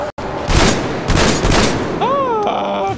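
Gunfire in Metro Exodus, a few loud close shots and booming impacts over about two seconds, followed by a wavering groan-like creature cry.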